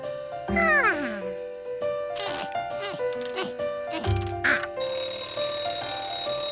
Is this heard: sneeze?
no